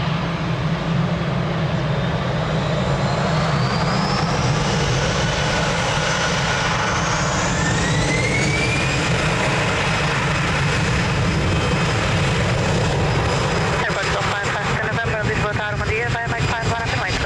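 An airliner takes off from runway 02 at Lisbon Airport, its jet engines roaring loud and continuous with a rising whine that sweeps upward, and a speaking voice faintly mixed underneath.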